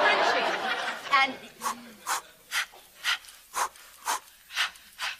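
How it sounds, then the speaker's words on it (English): Rhythmic heavy panting from a person in a comedy sketch, with a strained vocal sound at the start and then about eight evenly spaced, breathy huffs, close and fairly loud. "That's panting and heavy breathing."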